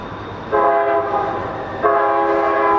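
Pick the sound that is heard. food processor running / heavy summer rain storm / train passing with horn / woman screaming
train passing with horn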